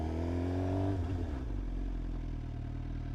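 A 2025 Suzuki GSX-R 750 idles and putters through slow-speed maneuvers, its engine note dropping from a brief higher rev to a steady low rumble close by, with no talk.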